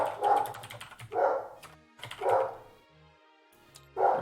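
Dog barking at a Kingdom Death: Monster board game session, several bark-like bursts spaced about a second apart, fairly close and moderately loud with nothing else over them.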